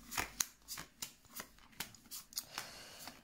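Tarot cards shuffled by hand before a reading, a quick series of crisp riffling slaps and flicks in an irregular rhythm, close and alone.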